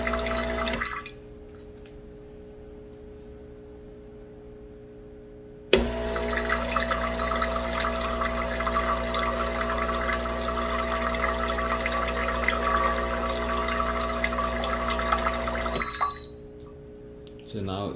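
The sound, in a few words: water rinsing through Breville Barista Pro espresso machine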